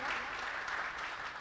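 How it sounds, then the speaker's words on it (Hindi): An audience at an Urdu-Hindi poetry recital by Nikhat Amrohi gives a brief burst of steady, dense applause at a moderate level. "एक बार जोरदार तालियां बजा दिए ताकि मुझे भी सांस मिल जाए।"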